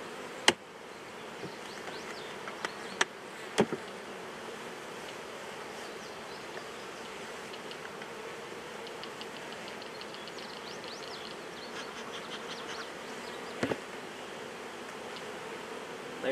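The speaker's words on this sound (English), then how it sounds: "they've got a ton of bees" Honey bees buzz steadily in an open hive, a dense continuous drone heard close up with a few faint clicks and knocks, and no talking.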